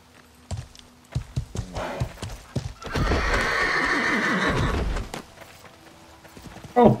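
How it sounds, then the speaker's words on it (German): Hooves clop in quick clusters in Life is Feudal, then a long, loud horse whinny rises and fades, followed by scattered hoof knocks and a brief snort. "Hört unsere Pferde."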